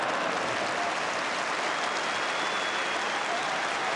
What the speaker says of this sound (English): Generous applause from the Norwich fans as well as those of Liverpool.